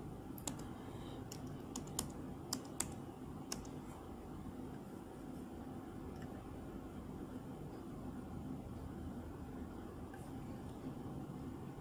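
Password being typed on a computer keyboard, faint scattered key clicks in a short burst near the start then a few more, over a quiet steady room hum, no speech.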